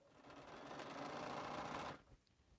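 A sewing machine stitching a quilt runs in one steady, close whirring burst for about two seconds, then stops abruptly, leaving a quiet room.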